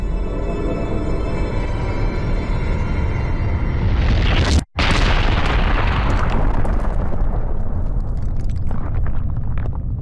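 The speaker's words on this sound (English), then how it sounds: "the explosion is like bass boosted or something because it's so much louder than everything else that happens in the game" A huge bass-heavy explosion from Shadow of the Colossus roars loudly with a deep rumble, cuts out abruptly for an instant, then bursts back and slowly decays into a crackling tail.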